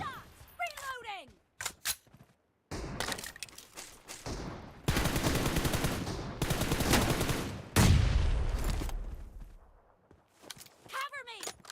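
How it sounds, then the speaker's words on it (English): Gunfire erupts in the battle-royale video game Ultimate Royale: scattered shots, then sustained bursts of rapid automatic fire in two loud stretches, with game voice callouts cutting in between. "Shots!"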